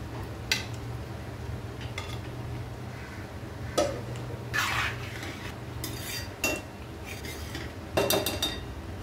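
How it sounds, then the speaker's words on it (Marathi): Fried paneer goes into a pan of gravy with a few sharp clinks and scrapes of a spoon against metal, scattered over a low background hum. "आता आपण घालणार आहोत इथे जे आपण हे पनीर फ्राय करून ठेवले ते"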